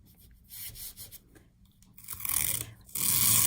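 Paint being rubbed onto paper for a snowy birch tree painting, heard as close, uneven scrubbing and brushing strokes in short bursts that grow louder toward the end.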